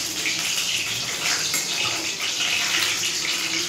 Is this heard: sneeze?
no